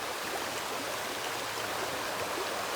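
Steady rushing water flows without pause at a trail river crossing in Cades Cove, a constant broadband hiss like a shallow river running over stones nearby.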